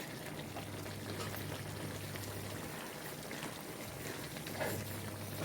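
Eggplant curry simmering in a pot, a faint steady bubbling and hiss with a low hum running underneath, no voices.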